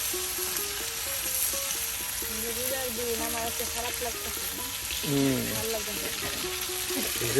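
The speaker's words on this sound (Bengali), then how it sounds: "প্রায় প্রত্যেকটি মাছ ভাজি সুন্দর করে উলট পালট করে দিচ্ছে" Fish sizzles and crackles steadily in hot oil in a pan as the pieces are turned over, with a soft burst of clatter and spatter midway, while a voice talks quietly throughout.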